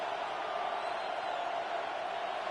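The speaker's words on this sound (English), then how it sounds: "This crowd into it now as we get to 3rd down" A steady, roaring stadium crowd cheering in the Madden NFL 26 video game, a broad, sustained wash of noise at even loudness throughout.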